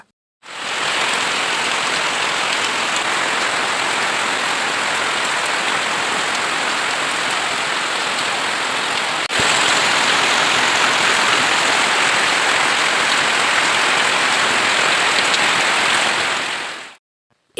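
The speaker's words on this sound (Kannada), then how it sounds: "ಈಗ ಮತ್ತೆ ಜೋರ್ ಮಳೆ ಶುರು ಆಯ್ತು ಮಳೆನ ಸ್ವಲ್ಪ ನೋಡುವ" Heavy rain pours down in a dense, unbroken roar, loud and close, holding steady throughout with no voices.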